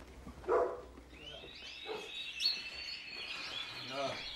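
Thin high bird chirps trill faintly in the background, partly overlapped by a few short voices and a brief sharper call.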